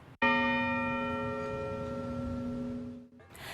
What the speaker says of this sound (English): Bells rang out 32 times at the Virginia Capitol Square Bell Tower in Richmond